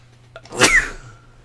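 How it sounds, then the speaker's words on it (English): A single sharp sneeze with a quick inhaled buildup, close and fairly loud, then quiet. "I'm going to sneeze again."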